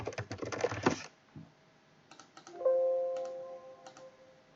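A computer keyboard on a Windows PC is typed in quick bursts of crisp, close key clicks, with a pause between two runs. A brief tonal beep sounds in the later part.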